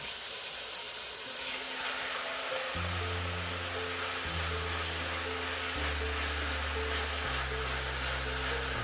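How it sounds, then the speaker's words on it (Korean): Beef and seaweed stir-fry in a pot for Korean beef seaweed soup, producing a continuous broad hiss that holds steady throughout, over low sustained tones that shift in pitch. "고기가 갈색이 나면서 어느 정도 익으면 미역도 넣어 같이 볶아주세요."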